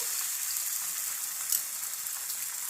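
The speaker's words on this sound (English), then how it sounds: "You'll hear a slight sizzle." Egg mixture for an omelette sizzling in a frying pan, a soft steady crackling hiss at low volume, close and continuous with a brief louder pop partway through.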